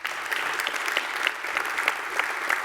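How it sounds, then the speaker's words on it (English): A live audience at a building-trade show applauds steadily as a masterclass speaker on traditional building is introduced, dense even clapping holding at a moderate level throughout. "big round of applause for Brent Hull"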